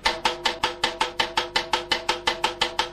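Double bass drums played in a fast, even run of sixteenth notes: about sixteen crisp kicks over three seconds, close and alone, each a sharp thud with a quick decay.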